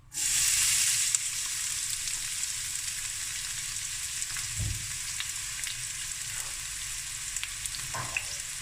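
Onions hit hot olive oil in a pan with a loud initial burst of sizzling, then settle into a steady, even frying hiss with a few soft stirring knocks.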